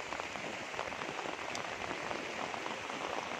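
Heavy typhoon rain pours steadily onto surfaces in a flooded residential area of Baras, Rizal, a dense continuous hiss with scattered drops, close and even throughout, with no voices.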